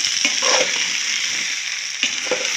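Masala and rice frying in ghee for vegetable biryani with coconut, a loud continuous sizzle punctuated by a few scraping stirs of a spoon against the pan.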